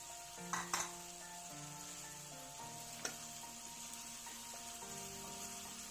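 Mutton sizzles and fries in a pan for saag gosht, a steady soft crackle running throughout with a few sharp clinks of a utensil against the pan and faint tonal chimes in the background.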